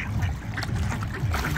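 Ducks gathering at a feeding spot quack in a busy, overlapping chorus with constant background noise.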